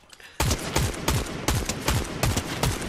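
Rapid gunshots in the Fortnite video game, a rhythmic string of about eight sharp close shots fired at an even pace after a quiet start, with no talk.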